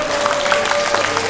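An audience applauding at a Chinese singing contest final in Christchurch, New Zealand, a steady wash of clapping from a crowd with a faint sustained tone running through it.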